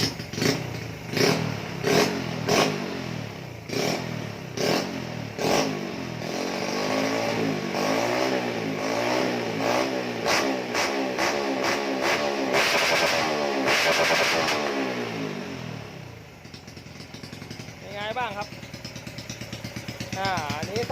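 A Honda Dream Super Cup motorcycle with a modified stock-stroke engine revs hard in a workshop, with repeated sharp throttle blips rising into sustained high revs, then dropping back to a rough idle, close and loud.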